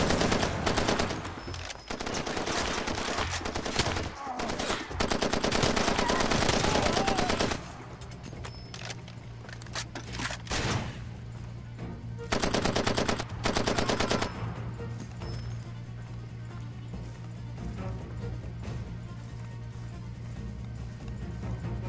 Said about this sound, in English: I guess you're shooting at me